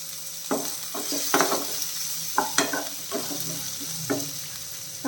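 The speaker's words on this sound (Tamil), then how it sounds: "நல்லா வதக்கிடலாம் வெங்காயம் நல்லா வதக்கட்டும்" Onions sautéing in a pan with ginger and a piece of tamarind, a soft constant sizzle broken by repeated sharp scrapes and clinks of a spoon stirring against the pan.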